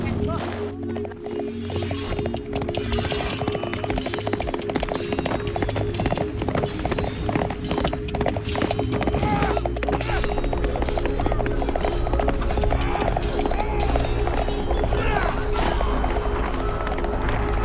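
Horse hooves clip-clop in a steady walking rhythm during a horseback ride through La Primavera forest in Zapopan, Mexico, close and continuous beneath someone speaking over a constant background hum.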